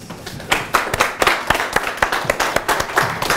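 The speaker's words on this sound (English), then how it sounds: "So please welcome a big applause for Daniel Knapp." A small seminar audience claps to welcome a speaker, giving a short burst of distinct, fairly close handclaps in an uneven rhythm.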